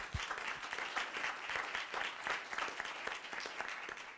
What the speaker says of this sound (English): Go ahead, give him a round of applause.